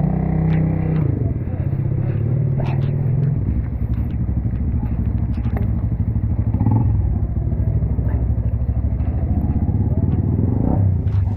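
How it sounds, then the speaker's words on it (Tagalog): Motorcycle hauling building materials to a house, its engine running steadily and close throughout with clattering load and brief revving, under occasional voices. "Gagamit pala kami ng motor"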